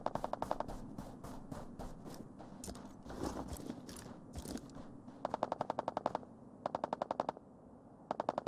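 Rapid machine gun bursts in the snowy battle royale game Ring of Elysium, several rhythmic volleys of sharp evenly spaced shots at moderate distance, with a noisy gap between the groups and no talk over them.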